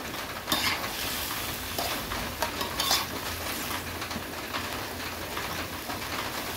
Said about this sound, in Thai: เดี๋ยวจะผัดหมูกับหน่อไม้เข้ากันก่อนนะคะ